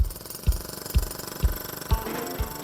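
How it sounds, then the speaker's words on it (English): A concrete breaker drills holes into concrete outdoors, its heavy impacts pounding at a steady, even rhythm roughly twice a second over a constant mechanical rumble. "on hand with his breaker to drill yet more holes into the concrete"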